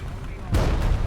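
A Sturmtiger's 380 mm shell fires and explodes in the War Thunder tank game, a sudden loud boom halfway through that rolls on with a heavy rumble, following a quieter stretch of game noise.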